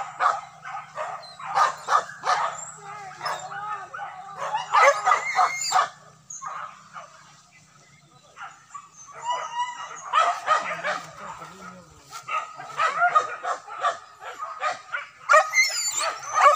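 Dogs bark and yip in repeated bursts beside rice paddies, some close and some further off, with quieter whimpering in the gaps and faint speech now and then.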